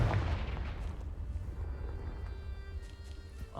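A Confringo fire spell blast in Hogwarts Legacy: a deep, rumbling explosion that starts loud and rolls away, fading over a few seconds with a faint crackling tail.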